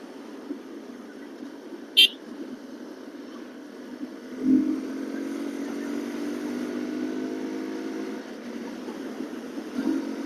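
A motorcycle engine drones steadily and rises in pitch as it accelerates at full throttle, with a couple of brief sharp clicks early on.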